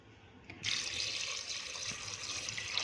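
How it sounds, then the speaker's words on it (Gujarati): Water pouring from a tap into a pressure cooker holding washed kidney beans (rajma), starting abruptly after a brief quiet moment and then running in a steady, close, hissing stream. "એમાં આપણે રાજમા ડૂબે એટલું પાણી એડ કરી દઈશું"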